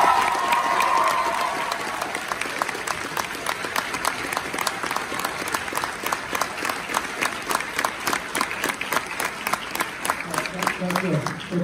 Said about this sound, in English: Please give a round of applause for Ms. Gracie Crochet.